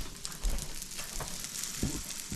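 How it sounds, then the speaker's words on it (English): Eggs fry in a pan for breakfast with a steady, fairly close broadband sizzle and a few soft thumps from handling the pan, and nobody speaks. "Eggs is done there. Let it cook there."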